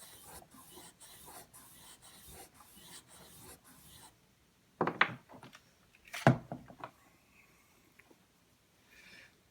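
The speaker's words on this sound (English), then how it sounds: "I run them across the strop" A LT Wright GNS knife edge drawn lightly across a leather strop to clean off tree resin and debris, making a run of soft, rhythmic rasping strokes, then a few louder scuffs and brief handling sounds close by.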